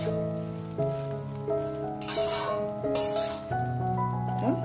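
Chicken with green chillies sizzles in ghee and butter. Short bursts of hissing frying rise and fall under sustained musical tones that dominate the mix.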